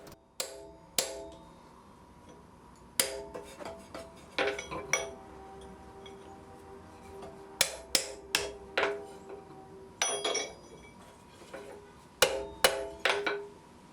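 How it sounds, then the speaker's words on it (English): A narrow chisel is hammered to split a hot iron bar while forging fireplace tongs, giving sharp metallic clinks in irregular groups of two to four strikes, with quiet pauses between them. "This is a very narrow chisel, so it'll split the bar, but it won't displace a lot of material"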